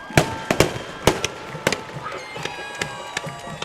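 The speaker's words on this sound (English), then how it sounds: "I've seen enough of those fireworks for a while." Fireworks explode at a high school football game, a rapid irregular series of sharp cracks and pops, fairly close and loud, with a faint crowd murmur beneath.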